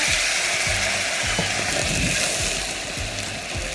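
Mackerel roasting in a pan over an open flame, with Averna liqueur poured in, gives a steady broadband frying hiss that holds close and loud for the whole stretch, with no talk.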